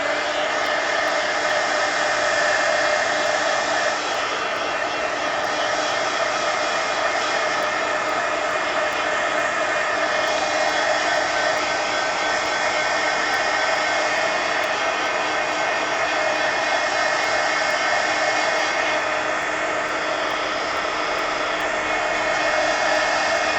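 A hair dryer blows continuously on an art journal page, a loud, close, steady whooshing roar that holds without a break.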